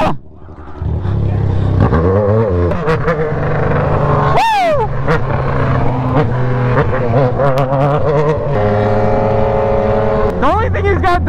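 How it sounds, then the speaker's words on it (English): Yamaha FZ-09 motorcycle fitted with an aftermarket Dan Moto exhaust, revving loudly and close by with strong harmonic engine tone, rising and falling throttle sweeps and a sharp rev around the middle, over steady idle rumble. "The only thing he's got done to this is a Dan Moto exhaust, which you can clearly hear is not stock."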